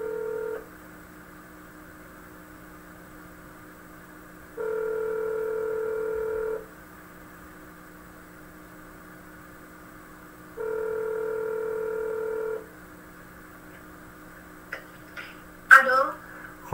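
Telephone dialing on a call placed during a TV broadcast: a continuous low dial tone runs throughout, and two long ringback tones sound several seconds apart, followed by a few clicks and a short burst near the end.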